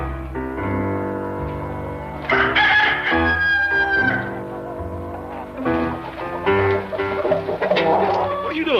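Chickens clucking and a rooster crowing in a farmyard, loud and close, with rhythmic cackling calls layered over a steady background.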